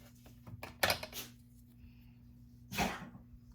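A person sneezes twice in a quiet room, a sharp burst followed about two seconds later by a second, longer sneeze over a low electrical hum.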